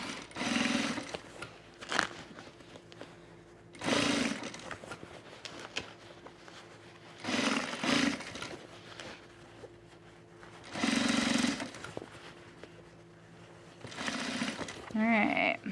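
Production sewing on a sewing machine: several bursts of rapid stitching, each a couple of seconds long, separated by quieter pauses with handling noises, all close and fairly loud.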